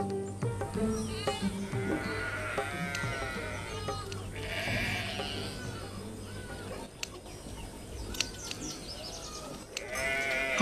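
Several sheep bleat in a flock, calls overlapping at close to moderate distance over a steady low rumble, with a bird or two chirping in the background.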